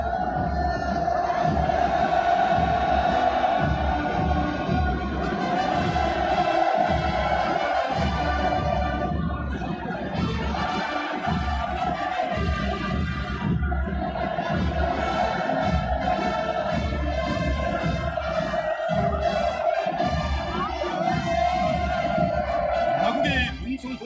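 Massed crowd at a military parade on a celebration square roars and chants hurrah continuously, a dense loud sustained cheer with swelling shouts, brief dips and a solemn commentary voice speaking over it.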